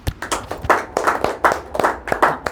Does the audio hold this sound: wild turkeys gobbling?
no